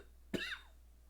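A single short cough, close and fairly sharp, with a brief raspy tail and quiet room tone around it, from a person coughing up blood.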